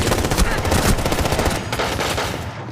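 Rapid automatic gunfire from the video game Rainbow Six Siege, dense bursts of shots crackling continuously and loudly throughout, with faint talk beneath.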